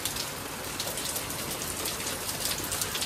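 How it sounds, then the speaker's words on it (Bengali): Heavy rain pours onto a balcony with a dense, steady hiss of drops close by, unbroken and even for the whole stretch, with no voices. "বেশ ভালো জোরে বৃষ্টি পড়ছে, মানে এইটুখানি টাইমের মধ্যে পুরো বেলকনি ভিজে গেছে"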